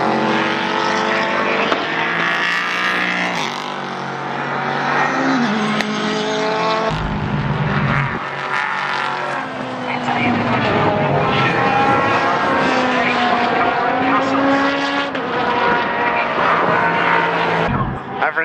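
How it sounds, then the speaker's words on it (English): Race cars at Daytona International Speedway during the Roar Before the Rolex 24 scream past one after another, loud and close, with engines rising and falling in pitch as each car passes. "It is pretty funny just walking by, having the cars shooting by,"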